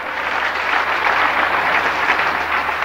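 A church congregation applauds during an Indonesian sermon, giving a steady, dense wash of clapping that fills the hall without a break for a few seconds. No voices are heard over it.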